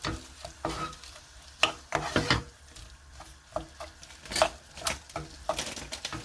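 Gochujang paste is stir-fried for a Korean stew, a spatula scraping and tapping the pan in irregular strokes over a soft sizzle, close by, with no one speaking.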